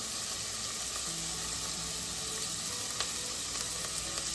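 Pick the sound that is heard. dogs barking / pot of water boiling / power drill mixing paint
pot of water boiling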